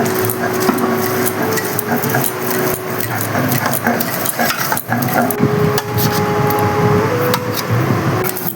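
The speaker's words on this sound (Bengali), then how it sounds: "এখন পনিরটা আমি কেটে নেব" A knife cuts through a 200-gram block of paneer on a board, making a run of sharp, close taps and knocks at an uneven rhythm over a steady background hum.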